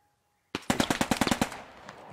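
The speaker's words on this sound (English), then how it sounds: "Keep on shooting." Rapid burst of about ten gunshots from a milsim scrimmage, a fast evenly spaced volley fired close and loud, ending in a short fading tail with no talk.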